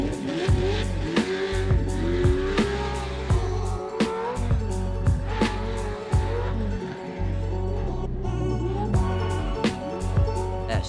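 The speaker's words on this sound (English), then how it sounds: "The truck ran beautiful." A race truck driving on a track, engine revving and shifting through repeated surges with squealing tires and sharp transient knocks, loud and close throughout with no voices.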